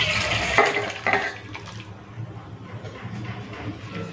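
Thin rohu fish curry with potato and papaya is poured out, giving a close, liquid splashing and trickling that starts louder and tapers into softer pouring.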